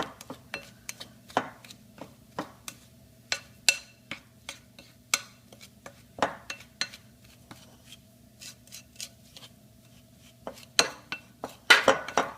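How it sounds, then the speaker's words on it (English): A spoon's back presses and smashes butter and egg into Betty Crocker Heath premium dessert bar mix dough in a bowl, giving irregular close scraping taps and clicks with no talking. "If you take it, kind of smash it with the back of your spoon, it tends to get all the butter squished and the egg mixed in"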